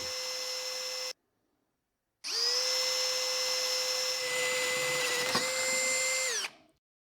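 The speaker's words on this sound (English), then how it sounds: "We got to drill the holes in the steel so that we can attach the base to this." A high-pitched drill whines steadily while boring holes in steel, stops briefly, then starts again for a longer continuous run before cutting off; close and clear, no talking.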